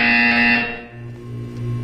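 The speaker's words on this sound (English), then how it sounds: "When you hear the buzzer, look up at the ceiling." A loud electronic buzzer in the Portal 2 video game, a harsh sustained tone cutting off after half a second, followed by a lower droning hum.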